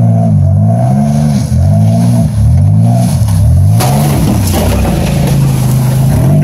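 A Buick LeSabre demolition derby car engine revving hard and accelerating, loud and close, with pitch rising and falling over several cycles, then a rougher burst of roaring and rattling near the end.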